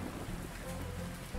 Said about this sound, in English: Oh, we got rain. The first time I've seen the rain.